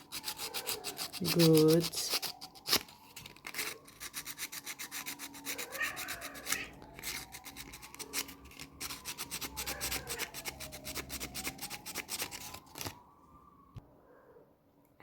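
Sandpaper rubs against a Barbie doll's neck in quick, repeated close scratching strokes for about thirteen seconds, steady and fairly soft, with a short louder thud near the start.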